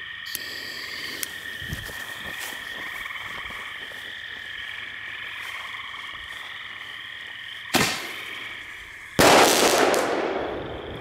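A single-shot firework item fires outdoors with a sharp launch thump, then about a second and a half later a loud, crackling burst that slowly fades, while frogs croak steadily in the background.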